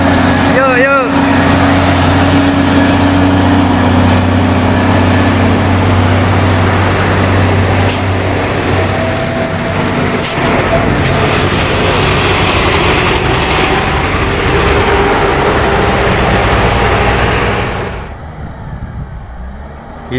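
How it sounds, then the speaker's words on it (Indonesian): Heavy truck engines, a Volvo and a loaded Hino, roar loudly and continuously nearby with a deep rumble. Someone talks over the noise, and it drops off sharply near the end. "Meraung guys mesinnya."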